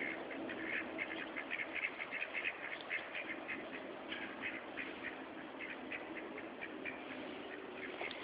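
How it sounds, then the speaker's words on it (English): Ducks heading for a freshly dug, water-filled backyard pond quack again and again in a quick, irregular chatter, moderately close but fairly quiet, with no talking. "The ducks are heading for the pond."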